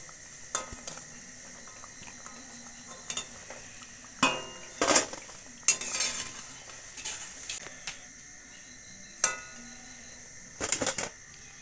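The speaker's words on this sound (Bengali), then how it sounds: "এবার আমি এটা তুলে নেব, তেলটা ভালো করে ঝরিয়ে দেব।" Fried chicken pakoras being lifted from hot oil with a utensil to drain, with faint sizzling beneath scattered metallic clinks and scrapes against the pan, quiet and close.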